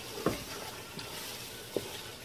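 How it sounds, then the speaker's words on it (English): A tomato base for Nigerian chicken stew fries in oil with a steady, faint sizzle, while a spoon scrapes the pot in a few sharp stirring knocks. "It's frying pretty well. Just going to stir to prevent it from burning."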